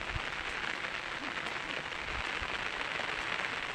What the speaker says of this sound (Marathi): पाणी इतकं पडते हे बघा हे यांना पाणी वाहतच आहे